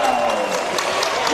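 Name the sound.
Sunbury basketball crowd cheering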